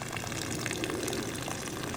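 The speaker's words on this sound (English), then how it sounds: "We'll continue flushing." Water gushes steadily out of a residential water heater being flushed of sediment, a constant rushing, splashing flow that holds the same moderate level throughout without any talking.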